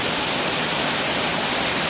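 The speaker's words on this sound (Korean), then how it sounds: "지리산 정령7호를 올라가는 길목에 있는 선녀폭포라는 것입니다." Seonnyeo waterfall on Jirisan mountain, about 900 m up, pours in a steady broadband roar of falling water. The rush is continuous and close, with no voices over it.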